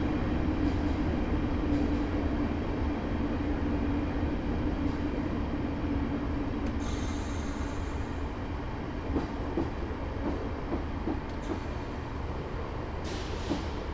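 Train braking in Train Simulator 2015 on the Larbert to Glasgow Queen Street route, a step 2 brake application slowing for a 15 mph restriction near a tunnel: a steady, loud rumble of rolling stock with faint hissing and clicks throughout, no talk.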